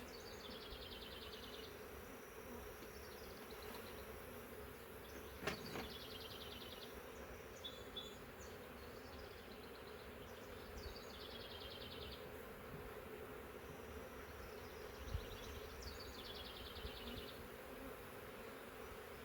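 A massive honey bee swarm packed onto drawn comb in a swarm trap, buzzing as a steady dense drone throughout, close and continuous, with faint bird chirps far off.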